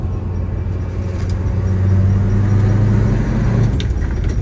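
Studebaker car driving in gear, a steady close engine rumble and drone whose pitch rises slightly as it pulls along, with no talk over it.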